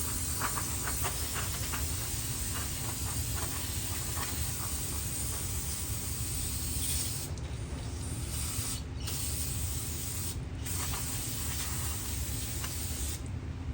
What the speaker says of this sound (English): Now this says brake and parts cleaner.